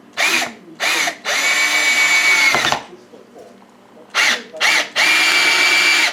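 Power drill driving screws into a board: two short whirring bursts, then a long steady run that ends abruptly, a pause, and the same pattern again, close and loud with no talk.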